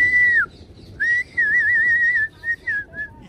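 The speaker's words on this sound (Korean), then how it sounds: "휘파람 소리 이제 알아듣겠지." A person whistles to call animals, a clear, close melodic whistle in several phrases, some held and wavering, others short, with brief pauses between and no talk.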